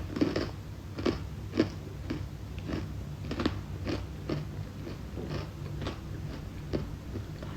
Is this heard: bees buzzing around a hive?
no